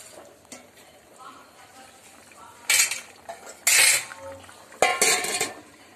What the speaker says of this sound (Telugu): ఇలా మట్టి గిన్నెలో రుద్దుకుంటే బాగా నైఫ్ గా వస్తుంది